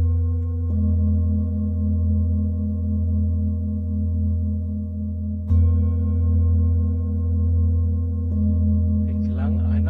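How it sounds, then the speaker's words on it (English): Sustained, ringing bowl tones overlap in a steady harmonic drone, with soft new strikes adding layers and a gentle wavering pulse throughout. "Listen to the harmony of the singing bowls."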